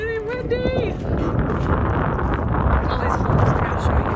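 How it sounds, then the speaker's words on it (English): Strong wind buffets the microphone at an outdoor crystal prospecting site, a steady loud rumbling roar that covers the clip after a man's brief exclamation at the start. "It's getting windy!"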